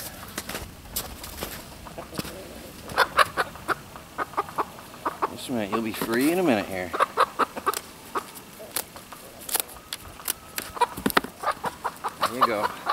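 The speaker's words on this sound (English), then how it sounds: "These are all what you would call showbirds, a lot of them." Show chickens with soft feathers on an off-grid homestead cluck and squawk in frequent short bursts, close by, while someone talks quietly to them.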